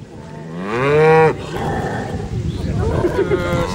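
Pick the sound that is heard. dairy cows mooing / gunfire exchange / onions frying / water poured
dairy cows mooing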